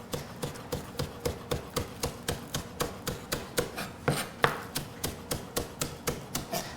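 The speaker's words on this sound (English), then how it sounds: "So we're going to get chopping here and do some scallions." A knife chops scallions on a cutting board in a steady, even rhythm, about three crisp taps per second close to the mic, with no talking.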